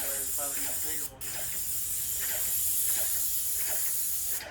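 A paint sprayer laying down a first coat indoors hisses steadily and loudly, with a brief break early on before the spray resumes.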